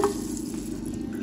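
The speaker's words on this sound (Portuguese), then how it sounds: "vamos colocar aqui 250 ml de água fervendo" About 250 ml of boiling water pours into a blender cup with a steady gurgling hiss for just over a second, ending in a brief clink.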